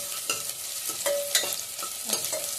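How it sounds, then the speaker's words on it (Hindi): Garlic and onions fry in a pan over raised heat, a steady sizzle broken by a spoon scraping and stirring at intervals, close and with no talking. "तो अब थोड़ा सा लहसुन भी, थोड़ा लहसुन भी पका दूंगी प्याज के साथ ही।"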